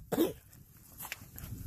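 A single short cough nearby, brief and fairly quiet, followed by low background noise and faint indistinct sounds.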